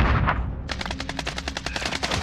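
Rapid automatic gunfire in the video game Call of Duty on Rebirth Island, a dense burst of evenly spaced shots that rattles on loudly for nearly two seconds after a brief lull.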